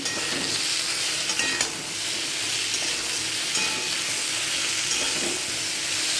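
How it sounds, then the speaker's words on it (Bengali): Pointed gourd stir-fries with tomato and green chilli, producing a constant dense sizzle with light stirring scrapes close up and no talking. "পটলটা দিয়ে একসঙ্গে মিশিয়ে এবার ভাজবো দিচ্ছি টমেটো"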